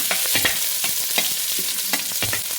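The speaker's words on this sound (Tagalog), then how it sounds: "Alright, lagyan na natin yung bawang and onion" Garlic and onion sauté in hot sunflower oil, a steady sizzle broken by repeated scraping stirs, close and fairly loud with no talk.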